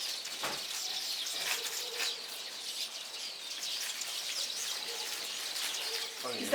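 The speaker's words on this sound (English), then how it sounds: "They're called serin tisserins. Weaving birds" Weaver birds chirping at Flic en Flac, Mauritius: a continuous flock of thin, high twitters and tweets, fairly faint and steady, with no voices over them.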